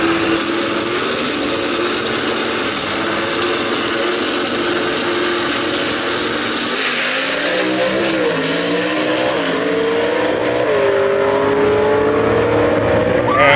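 A 1957 Pontiac and a 1933 Willys gasser drag race at a South Carolina dragstrip, engines roaring loudly throughout with rising pitch as they accelerate, while an announcer talks over the noise.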